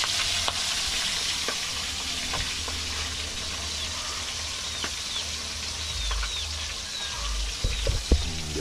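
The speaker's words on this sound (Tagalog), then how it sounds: "Diba nakakatakot pagka nakagprito ng bangus?" Milkfish frying in hot oil, a steady dense sizzle with sharp spattering pops and crackles throughout, growing louder with a few heavier bursts near the end; no one speaks.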